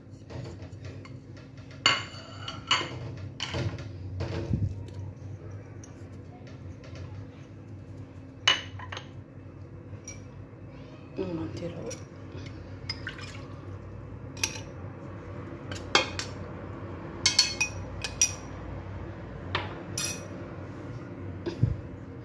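Ingredients and spices go into a cooking pot for a Moroccan lamb tagine with prunes and apricots, with scattered clinks of metal and utensils, light taps and small liquid drips, mostly faint against a quiet kitchen background.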